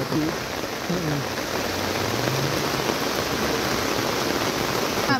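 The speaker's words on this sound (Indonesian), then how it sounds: "Debit air semakin deras." Strong, swelling river water rushes steadily in a dense, even roar, close and continuous, with faint voices mixed into the flow.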